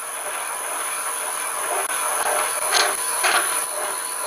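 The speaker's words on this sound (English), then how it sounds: "I'm currently running 121 RPM, but if I slow down the lathe even further, I get a lot of vibration from the motor." A lathe motor turns slowly at about 121 RPM during a reaming job on chuck wedges, giving a steady mechanical whine and hiss that holds evenly throughout, close and fairly loud.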